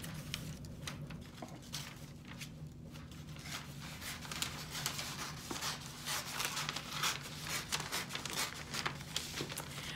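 Scissors snip and rustle through a single sheet of newspaper, cutting a strip with soft, quiet crisp crunches and paper crackle repeating through the stretch.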